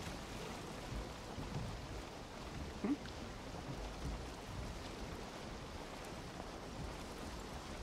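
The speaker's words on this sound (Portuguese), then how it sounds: "E tá chovendo e tá de noite" Nighttime rain falls over the ocean in Valheim as a steady, dense hiss, with a brief low rumble partway through. No voices.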